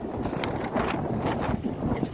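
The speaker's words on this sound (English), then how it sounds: "It's pretty windy today, hang on a moment." Steady wind blowing across a microphone outdoors at an old cemetery, a continuous broadband rush with gusty swells, fairly loud and close throughout.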